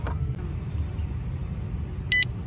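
A motorcycle anti-theft alarm disc lock clipped onto a brake disc gives a single short electronic beep near the end, following a faint click, with quiet room hiss around it.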